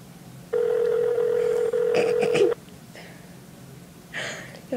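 A phone rings through a speaker during a prank call: a steady electronic ringback tone holds for about two seconds, followed by clicks and brief muffled sounds, fairly loud and close.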